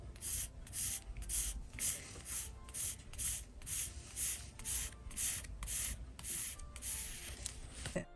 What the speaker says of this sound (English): You can freehand draw from the half an inch, go draw the line.